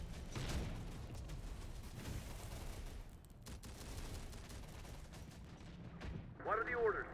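Infantry fire rockets amid a dense urban battle in the Terminator Dark Fate Defiance game, with continuous booming gunfire and artillery-like blasts, heavier bursts near the end, and voices faintly beneath.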